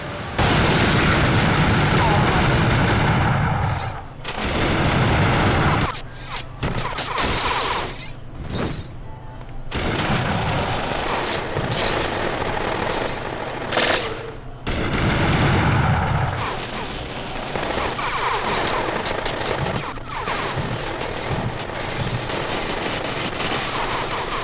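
Dense bursts of machine gun fire and explosions from the video game Gungrave Overdose, played in a casino-like level with slot machines, rattle loudly in long volleys broken by short gaps, with some voices mixed in.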